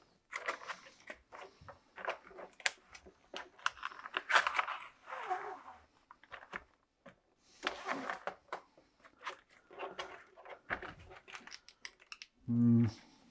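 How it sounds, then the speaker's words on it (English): Scattered crisp clicks and rustles of plastic bag handling, then a short, sharp slicing sound near the end as a vacuum sealer's built-in bag cutter cuts, close and fairly loud. "Not all of them come with a way to cut the bags right in the vacuum sealer"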